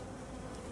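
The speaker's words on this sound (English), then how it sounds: "Oh, look at this bee!" A brief, faint, steady buzz comes from a mass of bees in a colony filling a chimney.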